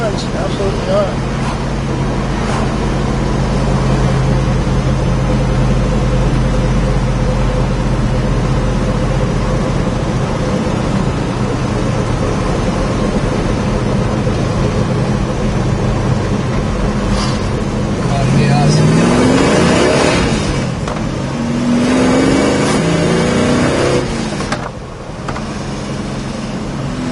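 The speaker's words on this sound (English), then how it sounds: "Car pulls nice and strong, just like it should." A 1970 Chevrolet Chevelle drives along a road with a steady low engine drone and cabin rumble, then accelerates with rising revs through gear changes, while someone talks over it.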